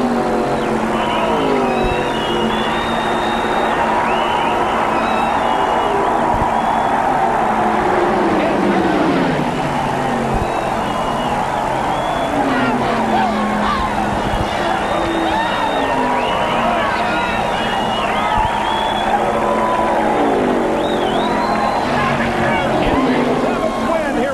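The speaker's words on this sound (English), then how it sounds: "sets his sights on Dale Earnhardt as the cars approach corner number 4" Dense roaring NASCAR stock car engines drone continuously at Talladega in the 1994 Winston Select 500, with rising and falling pitch sweeps as cars pass, over a steady crowd wash.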